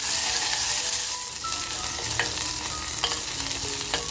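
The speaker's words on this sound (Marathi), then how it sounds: "आलं लसूण मिरची आणि कोथिंबीर ठेचलेलं आहे ते टाकूया पहिलं तेलामध्ये आणि खमंग परतवून घेऊया" Crushed ginger, garlic, green chili and coriander paste fry in a little hot oil while being stirred, giving a steady close sizzle with occasional clinks and scrapes of a spoon, and no one talking.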